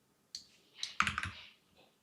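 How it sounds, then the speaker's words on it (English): Rapid burst of computer mouse clicks spammed on a game button, a quick cluster of sharp close clicks lasting about a second with no talk. "I'm gonna try to spam click this."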